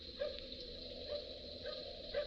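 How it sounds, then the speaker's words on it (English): A small dog barks in a radio drama set on a country road, a few light, distant yips spaced out over a steady faint background hum, with no talk over them. "Little dog barking."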